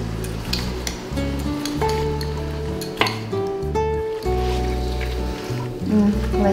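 Tomatoes and eggs cook in a pan with a soft sizzle, broken by occasional clinks of a utensil against the pan, while someone talks over it in a home kitchen.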